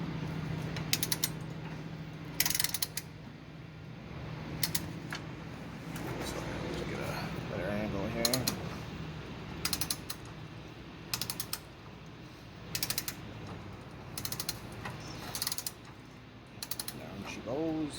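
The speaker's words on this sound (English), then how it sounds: "right now we're just going to turn the motor over here to check the sweep" An engine with AFR165 cylinder heads is turned over by hand with a wrench during reassembly: intermittent sharp ratcheting clicks in short bursts over low garage hum, while someone talks between them.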